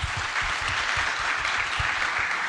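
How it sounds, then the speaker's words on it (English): Dense audience applause fills a hall at a keynote interview during a music industry conference, a steady, even wash of many hands clapping at moderate loudness, with no voices over it. "I think we should give the people from Zouk a round of applause,"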